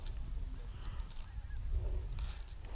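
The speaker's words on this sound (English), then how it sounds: "We got birds behind us too." Geese honking in flight over open country during a waterfowl hunt, faint scattered honks carried from a distance over steady wind and outdoor rumble.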